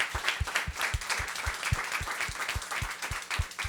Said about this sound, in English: Let's give them all a round of applause, folks.